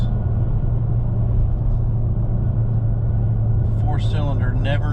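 A Hemi V8 Dodge Challenger or Charger engine coasting off the gas with a steady low rumble from inside the car, and someone talking briefly near the end.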